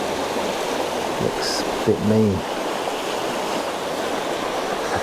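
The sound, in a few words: river water flowing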